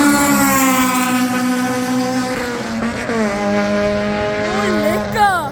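A straight-piped K20-engined Honda Civic exhaust drones loudly and close with a strong, steady harmonic tone, then revs shift and rise toward the end.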